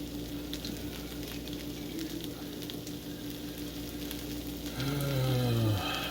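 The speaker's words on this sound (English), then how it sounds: "now my bacon's stirred in it now that it's warm" Bacon stirred into breakfast fried rice sizzles in a hot pan with a steady crackling hiss throughout. Faint stirring scrapes are heard, and a low droning tone swells briefly near the end.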